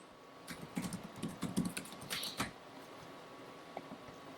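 Typing on a computer keyboard to enter a password, a short burst of quiet clicking keystrokes at close range, then a few scattered taps as it trails off.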